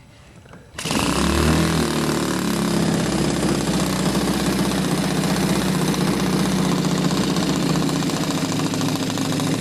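A small glow-fuel RC airplane engine fires up after a short quiet moment and settles into a loud, steady, rattling idle that runs without a break, close to the listener with no voices.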